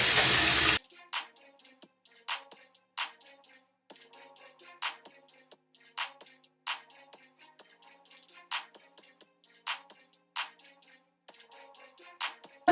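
Tap water runs in a sink while a face is rinsed after makeup removal, an opening hiss followed by a steady flow broken by repeated bright splashes and spurts, fairly close and with no one talking.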